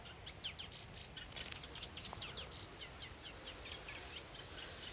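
A warbler sings close by in the Welsh countryside, giving a rapid run of high, thin chirps over a soft, steady outdoor hiss, with a faint flutter partway through.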